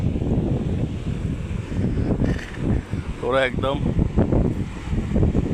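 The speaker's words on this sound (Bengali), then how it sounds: "পানির ঢেউটা দেখেন কত" Water waves churning near fishing boats out on open water, a continuous washing rush mixed with heavy wind buffeting the microphone, with a person speaking briefly over it midway.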